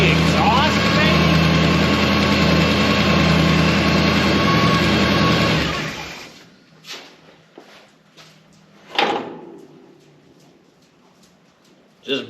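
A car engine, just fitted with a new camshaft, idles steadily for about six seconds with audible exhaust noise, then cuts off, leaving faint clicks and a few short knocks.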